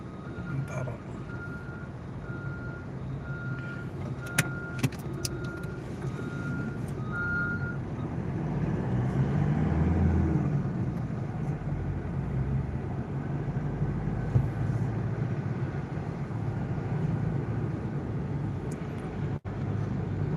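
Congested toll road traffic on the Lebak Bulus–Bintaro tollway, with a truck's reversing beeps repeating early on over a low, steady idling and rumbling of engines. A few faint clicks are scattered through.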